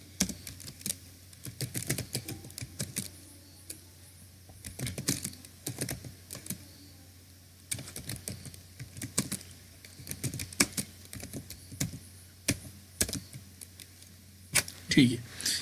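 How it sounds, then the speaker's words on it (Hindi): Close, crisp keystrokes on a computer keyboard come in irregular bursts and pauses while text is typed and formatted in a word processor, with quiet room tone between the taps. "मैं टाइप करूंगा"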